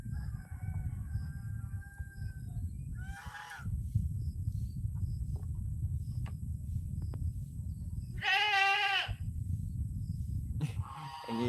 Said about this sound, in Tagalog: Ang ingay na nung alaga kong kambing mga kasinag.